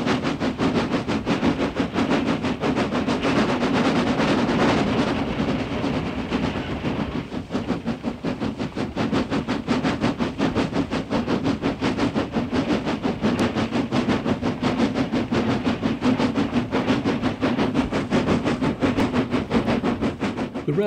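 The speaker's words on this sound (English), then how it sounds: "This is the actual sound recording I made of that trip" An Austerity steam locomotive climbs a steep gradient on a coal mine railway, laboring loudly and continuously, its rapid exhaust beats chuffing in a steady rhythm over constant rumbling.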